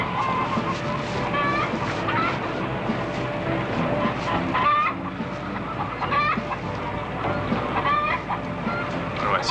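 Chickens cluck and squawk close by in a busy, continuous chorus of short overlapping calls, with occasional louder bursts over a steady background.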